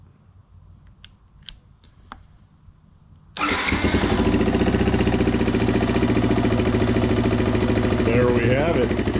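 A 2019 Beta 125 RR-S dirt bike fitted with a 150cc Yamaha big bore kit starts after quiet clicking, then settles into a loud, steady two-stroke idle close to the microphone, with a brief rev near the end and a few spoken words over it.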